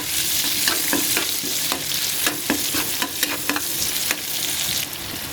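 Minced garlic sizzles loudly in a generous pan of butter and oil for chicken pastil, with crackling frying under repeated clicks and scrapes of a spatula stirring through it.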